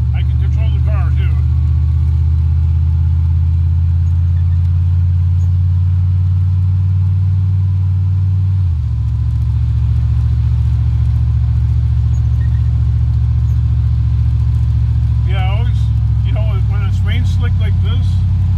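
A car drives along the road with a loud, steady low engine drone inside the cabin, the pitch stepping down twice with gear changes, and people talking over it.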